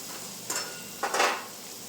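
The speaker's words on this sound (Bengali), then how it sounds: "হলুদ দিয়ে 5 মিনিট ভেজে লাল করে নেবো।" Turmeric and pointed gourd fry in oil in a pan: a soft, steady sizzle runs throughout, broken by two brief, louder bursts of stirring and scraping.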